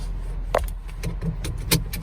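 Seatbelt fastened inside a Jeep Wrangler Unlimited, with short metallic jangles and clicks of the buckle and latch plate over a low cabin rumble, close by and without talk.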